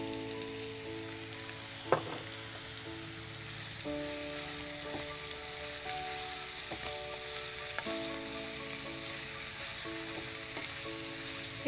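Zucchini stir fry with Italian herbs sizzles steadily in a pan, a continuous close frying hiss broken by a few sharp clinks and scrapes from stirring, with no talking.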